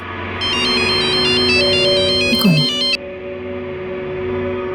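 A phone ringtone plays a bright, repeating electronic melody for a few seconds and then cuts off, leaving a low background hum.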